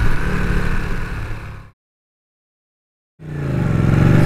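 A Ducati Panigale motorcycle engine runs loud and close, a throbbing rumble that cuts out abruptly to silence for over a second before returning with a deep pulsing tone.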